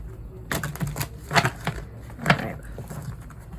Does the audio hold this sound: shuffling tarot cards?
yes